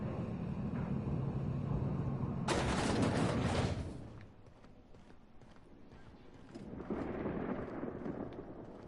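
Thunderstorm in The Outer Worlds, a video game: a low, steady rumble breaks into a loud, sharp crack of thunder that rolls on for about a second before fading into softer rumbling and wind.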